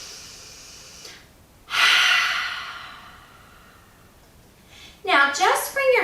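Slow cleansing breath in a chair yoga class, a soft inhale followed by a long airy exhale fading out, close-miked, with a voice briefly talking at the end.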